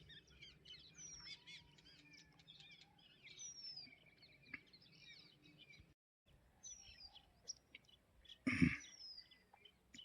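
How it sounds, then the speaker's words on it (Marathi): Parrots calling from trees along a Narmada pilgrimage route between Jorgi and Ghansor. Scattered thin chirps and whistles come from a moderate distance, mostly faint and overlapping, with one louder burst of calls near the end. "प्रत्येक झाडावर थोडे थोडे पोपट आहेच"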